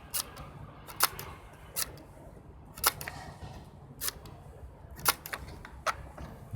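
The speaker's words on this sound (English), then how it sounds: "So we've got the shutter, tested it's working okay. I'll just fire it a few times." A Cameradactyl large-format camera's shutter fires repeatedly, sharp mechanical clicks spaced about a second apart, close and crisp against a quiet background.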